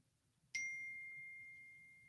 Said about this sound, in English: That was like a church bell going off.